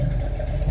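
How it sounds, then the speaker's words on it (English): A 1967 Chevrolet Camaro with a 454 big-block V8, a performance cam and dual exhaust, runs steadily at a loud, close, deep idle that stays even throughout, with no talk over it. "I got it running right now. It has a 454 big block in it."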